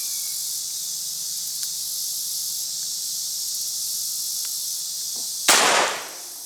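A single sharp gunshot from a Pedersoli Philadelphia Deringer black-powder pistol cracks out near the end after quiet background hiss, with a brief decaying tail, fired at a target seven yards away.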